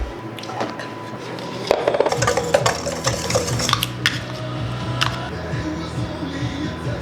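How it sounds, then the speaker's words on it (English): Muffin batter being mixed in a bowl, with a utensil clinking and scraping against the sides in irregular quick strokes, close up and without talk. "So let me mix these up."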